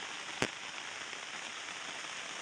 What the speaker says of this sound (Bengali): আজকে এখানে খুব দারুণ বৃষ্টি হচ্ছে